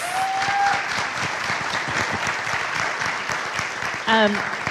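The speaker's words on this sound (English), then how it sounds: "give them all a round of applause" Steady audience applause fills the room at a chefs' conference session, a dense continuous clatter of many hands, with a brief whistle-like tone near the start and another near the end.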